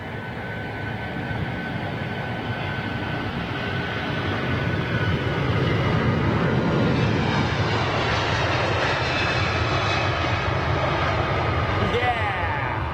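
An airplane engine roars steadily at Heathrow Airport, a loud continuous growl that swells slightly toward the middle, with a voice talking over it.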